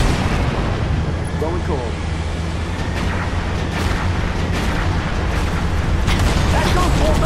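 Distant, rumbling AA guns fire in Halo Reach, booming under a dense wash of battle noise and engine drone, while a voice speaks briefly over it.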